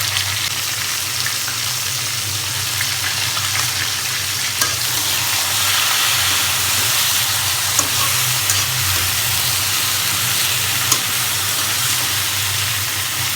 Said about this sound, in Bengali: সবজির সাথে একটু লবণ আর একটু হলুদ দিয়ে আমি ভালো করে ভেজে নিচ্ছি।